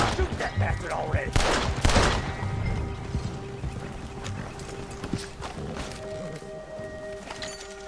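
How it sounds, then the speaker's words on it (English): Bursts of gunfire in a Red Dead Redemption II shootout in the Old West, a quick volley cracking out over horse hooves and game ambience, with some talk mixed in. "Shoot that bastard already."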